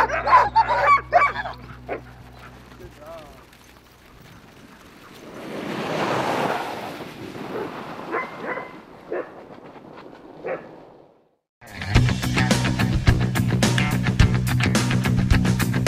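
Sled dogs in racing training, including young dogs, barking outdoors in several loud bursts, with wind and a gusty stretch in between and a dense chorus of barking and yelping toward the end.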